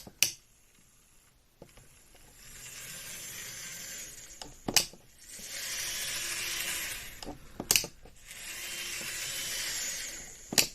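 Dapol Pannier N gauge model locomotive, freshly fixed and run in, running on track with a steady high whirring motor and light rail clatter, broken by a few sharp clicks and brief pauses between runs.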